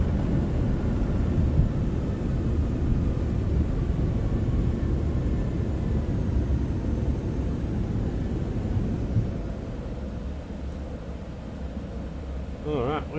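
In a flight simulator, a Citation 750 business jet rolls out on landing with thrust reversers deployed and brakes applied, a steady broadband roar and rumble that slowly eases, with voices talking over it.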